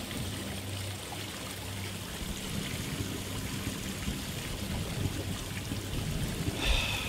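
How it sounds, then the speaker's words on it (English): Flowing water in the Murdered: Soul Suspect video game, a steady soft trickling wash running continuously at low level with no voices over it. "Please go away, water sounds."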